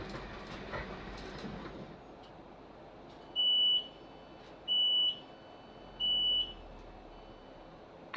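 Inside a South Western Railway Class 458 train nearing Ashford, a quiet low rumble of the carriage runs beneath three evenly spaced electronic beeps, with no one speaking.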